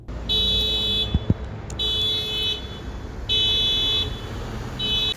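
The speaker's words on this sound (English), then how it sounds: "outside there is a car alarm that has been going off for the last" A car alarm goes off outdoors and in the distance, its electronic beeping tone sounding in repeated bursts with short gaps between them. No one speaks.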